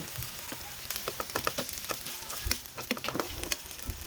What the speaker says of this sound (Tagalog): igisa muna tayo ng bawang